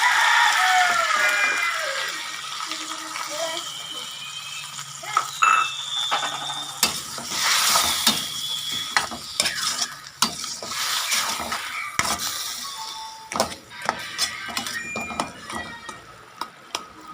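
Soy sauce poured into hot oil while chicken adobo cooks, a loud steady sizzle that settles into crackling fry with scattered clinks of a utensil against the pan.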